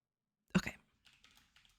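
Computer keyboard typing during a game development session, one louder thump followed by a few soft, quick keystroke clusters, close and quiet against silence.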